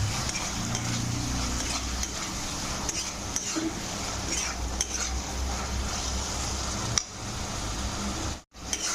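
Tomatoes go into a pan of sizzling spice masala while fish-head moong dal is cooked in a wedding-style Bengali kitchen, with a steady frying hiss, a spoon stirring and scraping against the pan, and a few brief clatters.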